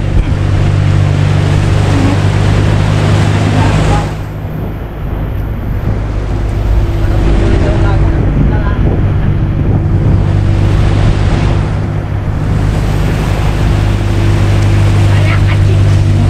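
A steady motorboat engine drones low and constant out at sea, with gusting wind and the wash of surf around it, occasionally dipping briefly.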